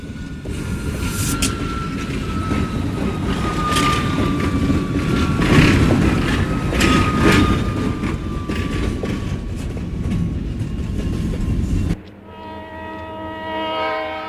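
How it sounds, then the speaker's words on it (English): Alco RS-3 road-switcher diesel locomotives hauling the Detroit–Toledo local freight on C&O track rights, a loud continuous rumble of engines and rolling wagons with wheel clatter, cutting off abruptly to a quieter, different scene near the end. "The Alco RS-3 road switchers are hauling the Detroit to Toledo local freight."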